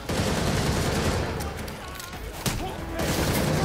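Rapid bursts of gunfire from the Gotham Knights video game, dense and continuous throughout, with a sharp report near the middle; a voice talks over it.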